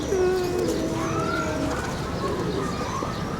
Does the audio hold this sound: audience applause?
no